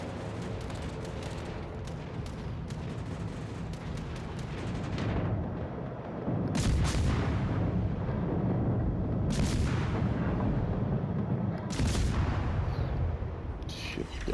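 The Spanish cruiser Mendez Nunez fires its guns in World of Warships Legends in repeated booming salvos every few seconds over a constant roar of battle, with a voice talking in between.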